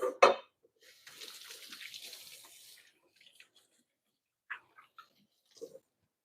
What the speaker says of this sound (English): Wash up my hands.